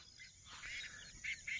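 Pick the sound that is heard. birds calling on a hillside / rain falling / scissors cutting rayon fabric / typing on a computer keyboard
birds calling on a hillside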